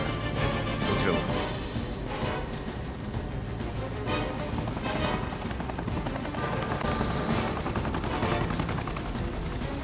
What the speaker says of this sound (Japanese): ああ、もう一機も爆発する